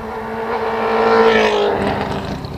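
A Honda New Civic fitted with an aluminium cylinder roars loudly as it revs, the engine note swelling to a peak then easing off in a single strong, close burst.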